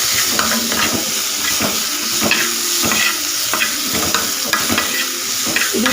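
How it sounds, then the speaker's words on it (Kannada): Onion and coriander leaves fry in a pan for egg curry, giving a steady loud sizzle and hiss. A spoon scrapes and stirs against the pan in repeated knocks throughout. "ಫ್ರೈ ಮಾಡ್ಕೊಳ್ಳಿ."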